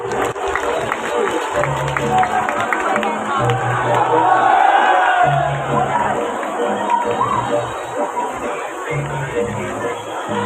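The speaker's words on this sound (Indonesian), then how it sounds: "Beri tepuk tangan yang paling meriah sekali lagi." Large festival crowd at the Denpasar ogoh-ogoh parade applauding and cheering in a dense, sustained wash of claps and shouts, with a steady background tone and booming low sound pulses running underneath.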